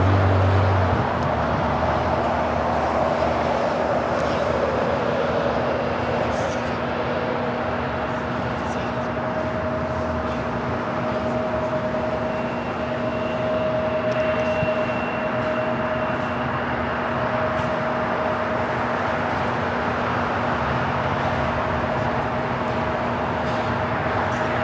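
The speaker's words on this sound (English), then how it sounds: "Flight coming in from San Diego, United Express SkyWest, flight 5249. It's an E175." A United Express SkyWest Embraer E175 jet arriving at LAX from San Diego gives a steady, loud engine roar with a faint whine that holds unbroken from start to finish.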